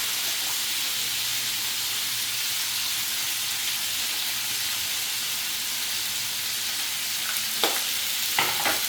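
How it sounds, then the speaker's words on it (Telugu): Food sautés and fries in a pan with a steady, even hiss of sizzling oil up close, then a couple of short utensil clinks near the end. "బాగా బాగా వేయించుకొని మగ్గబెట్టేసేసుకుంటే"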